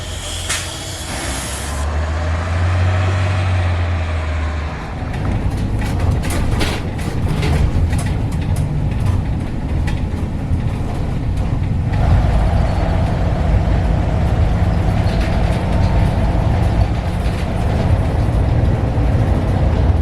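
Buses at a bus station on a route to Lodi: a sharp air-brake hiss opens over a low idling engine rumble, followed by a continuous heavy diesel drone and traffic noise with no talking.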